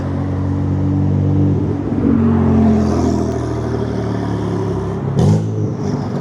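A small vehicle engine with no muffler revs loud and close, a harsh droning buzz that swells, holds and surges again near the end.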